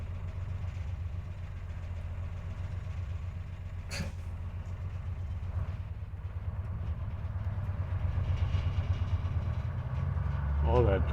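An old bus on a road test, its engine droning low and steady from inside the cab with a rising note toward the end and a brief clunk, under quiet background talk.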